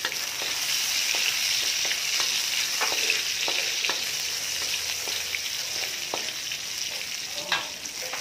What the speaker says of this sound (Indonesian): ini sudah sedikit hangus dan kita masukkan chilinya ya.